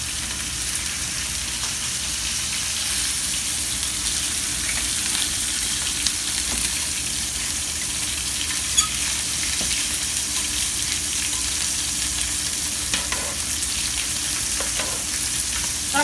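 Steaks sear in a hot pan with a steady, close sizzle that runs unbroken throughout, a few faint pops and ticks rising above the constant hiss and no voices heard.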